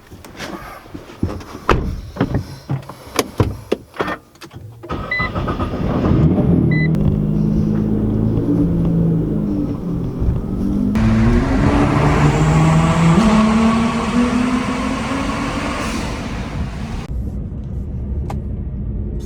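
A car on a test drive with newly installed floor mats: clicks and thumps first, then a steady engine and road rumble that rises and falls with gear changes, loud and close from inside the cabin.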